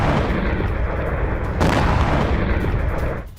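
Iranian ballistic missiles intercepted in the sky over Jordan produce a sustained, heavy rumbling roar of blasts, swelling with a fresh boom midway and then fading at the end.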